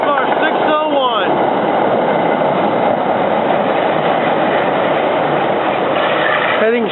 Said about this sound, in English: I'm coming in now, right after the work train passes.